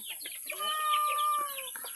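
Chickens cluck near the microphone in a short series of soft, quick clucks, with one longer tonal call in the middle.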